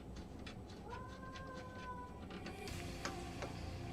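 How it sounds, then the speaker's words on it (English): A cat gives a long, loud warbling yowl that bends in pitch and slides through its sustained cry, then a few shorter sharp chirps over steady background hum indoors. "he just walks around meowing and warbling his voice as loud as he can"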